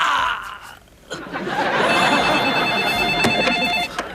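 A telephone rings in a domestic comedy scene with a steady bright electronic ringing tone, loud and close, with light chuckling laughter mixed in.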